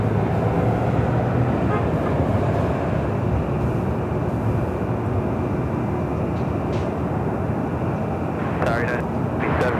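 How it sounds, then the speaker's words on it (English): A Southwest Airlines 737-800, flight 2217 from Oakland, arrives at LAX with a heavy, continuous jet rumble that stays loud throughout, and a voice briefly speaks over it. "Southwest Airlines flight 2217 coming in from Oakland at"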